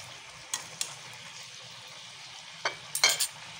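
Chicken pieces browning in a pan for adobo give a faint, low sizzle under a few sharp spatters and utensil scrapes, with a brief cluster of louder pops toward the end.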